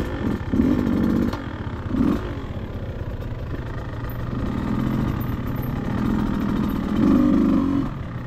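A dirt bike engine runs steadily on a trail ride, its motor droning and idling with a few brief revs rising above the rumble, close and fairly loud with no talking.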